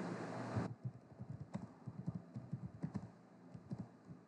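Quick light clicks of typing on a computer keyboard, irregular and close but faint, following a brief louder burst of noise at the start, with no talking.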